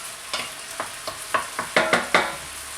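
Liver and kidney browning in a frying pan, with about eight short scraping stirs at a steady pace over a continuous soft sizzle, close and fairly loud.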